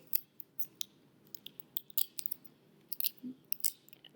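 Tape pulled from a roll and snipped during a leaf craft, with quick crackly rips and sharp clicks in a loose, irregular series, close and fairly quiet, with no voices.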